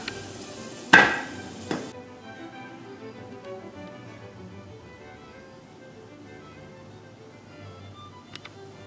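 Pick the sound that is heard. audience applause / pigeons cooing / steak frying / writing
steak frying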